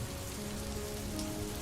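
Steady rain falls on a surface in a soft, continuous, even patter, with no voices and no thunder.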